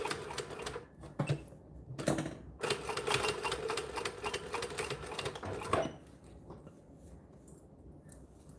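Sewing machine stitching fabric scraps for a scrap-busting project, running in steady rapid bursts with brief pauses between runs, close and fairly loud, then stopping and leaving quiet room tone.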